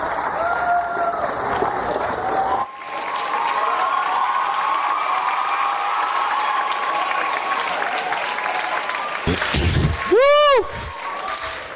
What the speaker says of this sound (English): You're also encouraging and whatnot with the round of applause in between.